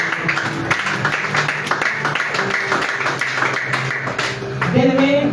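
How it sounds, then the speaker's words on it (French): A church congregation claps rhythmically in unison, a pulsing run of hand claps that continues for about five seconds, with a voice or music swelling at the end. "Un tonnerre d'applaudissements pour le Jésus."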